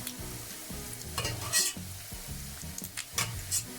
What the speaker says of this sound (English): So I'm gonna take it out so that my onions can continue to brown to my liking, because I want them brown.